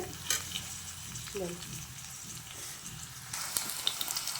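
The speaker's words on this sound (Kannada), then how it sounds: "ಸ್ವಲ್ಪ ಫ್ರೈ ಆಗಲಿ" Chopped onion frying in a pan for mutton sambar, a close steady sizzle with occasional stirring clatter, louder toward the end.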